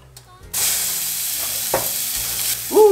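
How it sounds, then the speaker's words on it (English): Burger meat hits a hot griddle after a quiet moment, bursting into a loud, steady sizzle that continues throughout, with brief scraping and clicking over the frying and a short voice near the end. "It's time to start cooking the meat."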